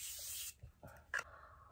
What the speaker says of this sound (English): let's spray our face with the Morphe setting spray.